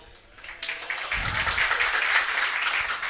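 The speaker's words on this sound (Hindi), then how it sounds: "अच्छे नहीं लगते लड़के ताली बजाते" Boys in a classroom break into a burst of scattered clapping that swells and carries on, mixed with murmuring voices.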